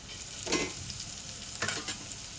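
Coriander stems hit hot oil already holding fried garlic and green chili, giving a steady background sizzle with two brief louder bursts of stirring or crackle.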